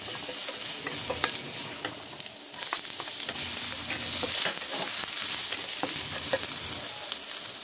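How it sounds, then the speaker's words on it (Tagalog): Garlic and onion sauté in a pan for a fish and chayote soup, giving a busy near sizzle with frequent stirring scrapes and crackles and a brief dip partway through, with no talking. "susunod natin gagawin ay gisa na natin yung ating bawang at saka sibuyas"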